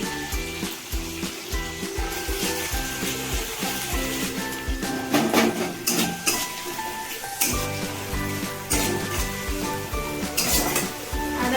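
Spice paste of ginger and garlic fries in oil in a pan, a continuous sizzle under repeated clinks and scrapes of a utensil stirring it, close by and steady.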